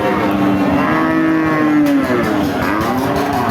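A Sahiwal or local-breed dairy cow with her female calf at a cattle market in Jessore gives one long, loud, close moo that rises and falls, with faint market noise behind it.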